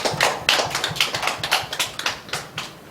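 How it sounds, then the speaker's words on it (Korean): A church congregation claps during a Sunday worship service, producing steady, fairly close claps in an even rhythm with no voices over them. "우리에게 은혜 주신 하나님께 영광의 박수 올려드리겠습니다"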